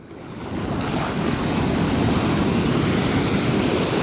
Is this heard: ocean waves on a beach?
yes